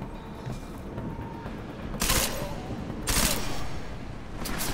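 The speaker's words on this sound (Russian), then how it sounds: "3 двойных выстрела." Gunfire in the video game Deus Ex: Mankind Divided: a few sharp, loud gun blasts spaced about a second apart over a low mechanical rumble and clatter.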